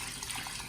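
A short splash of rinse water poured off washed split peas, a steady hissing gush with no voices.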